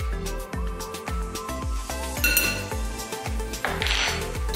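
A spoon clinks and scrapes against a bowl as pepper and seasoning are mixed, a quick run of regular metallic taps and clatters, close and fairly loud with no talking.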